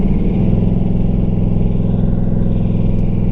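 A Ford Mustang with a TH400 automatic and high-stall torque converter gives a loud, steady, close engine drone with a rich low rumble, holding an even pitch under throttle throughout.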